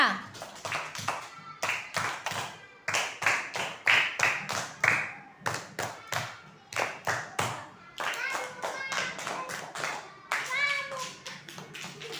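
Children in a classroom perform a rhythmic scout clapping routine, with bursts of sharp, patterned claps in quick groups and short pauses, and young voices chanting along throughout.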